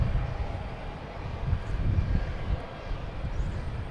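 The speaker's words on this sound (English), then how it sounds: "we have a JetBlue coming in from Chicago" A JetBlue airliner arriving from Chicago drones past at an airport, a faint, steady low jet roar with no voices over it.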